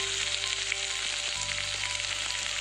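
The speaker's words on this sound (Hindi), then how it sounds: "इसे अच्छे से हम सॉटे करेंगे।" Chopped onion, ginger, garlic and tomato sizzle steadily in a pan for kadai paneer, a close, continuous frying crackle with faint stirring and no voices.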